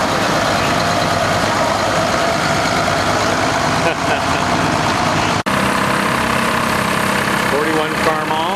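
A 1941 Farmall tractor idles in a steady, loud, continuous rumble that stays close and unbroken throughout, with a sickle bar mower mounted on the back.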